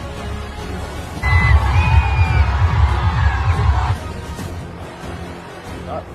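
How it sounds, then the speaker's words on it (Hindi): A crowd gathered at an election rally in Bihar where a helicopter has landed, heard as a murmuring mass of voices with a rhythmic thumping pulse and a few whistle-like calls that swell for a few seconds and then fade back to a steady hubbub. "भीड़ भी इकट्ठी हो रही है।"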